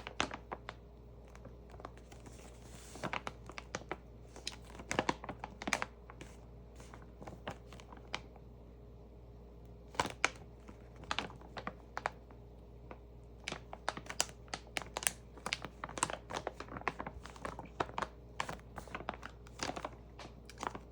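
Makeup wipes crinkle and tap in soft, irregular clusters of close, quiet rustles and clicks, with no talking and with brief pauses between handling bursts.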